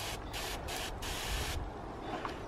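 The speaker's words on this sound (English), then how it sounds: "Yes, that's working fine, look, full spray." A 5 litre garden pressure sprayer sprays steadily at full jet, a continuous close hiss with brief pulsing breaks early on before the spray settles into a softer, even rush.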